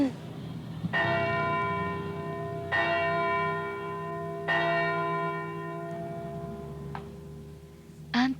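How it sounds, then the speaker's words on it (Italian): A church bell tolls three times at a steady, slow pace, each strike ringing out with long, humming overtones, followed by a couple of fainter, lighter chimes. "Ti piace il suono della campana?"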